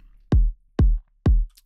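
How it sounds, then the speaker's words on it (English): Three punchy kick drum hits from a sample pack, warmed with clipping and EQ, land evenly spaced and isolated, each a deep thump with a quick click at the front. "What I did basically is just took a kick from the sample pack"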